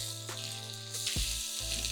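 Buffalo chicken pieces sizzle in a frying pan, a steady close frying hiss with a brief clatter as they are flipped.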